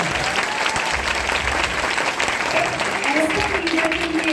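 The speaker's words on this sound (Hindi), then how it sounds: "तो एक बार जोरदार तालियां" Audience at a Modicare business event in Andheri West, Mumbai, giving loud, sustained applause, with crowd voices and cheering mixed into the dense clapping.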